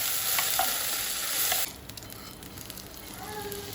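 Chutney sizzles and is stirred as it is heated in a pan, with a bright hiss that is loud at first, then drops to a quieter sizzle with light scraping, and no talk.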